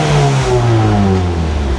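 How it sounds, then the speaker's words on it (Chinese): A Ford Focus MK4.5 ST with a six-speed manual gearbox revs its engine, a loud, steady exhaust drone with rising and falling harmonic tones held close for under two seconds. "排气管声音。"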